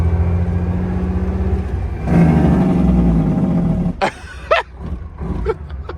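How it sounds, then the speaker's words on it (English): A 1993 Freightliner truck with a 12.7 engine running with its jake brakes on, a loud, rough, continuous engine roar that swells after two seconds, followed by a few sharp, choppy bursts near the end. "Let's turn our jakes on and let them eat a little bit."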